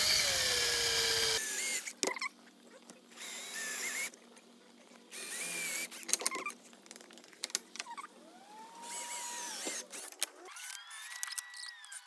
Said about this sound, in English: we're going to start drilling the holes into them so we can put them where we need them to be